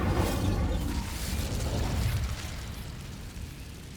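An Incendio fire spell cast in Hogwarts Legacy makes a loud whooshing burst of flame with a low rumbling boom that fades out over a few seconds, alone with no talk.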